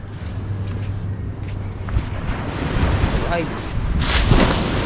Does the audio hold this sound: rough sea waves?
yes